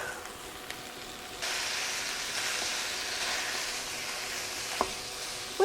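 A pound of ground beef sizzles and fries in a pan while being chopped up, a loud, steady crackling hiss close by with a few faint scraping clicks of the utensil.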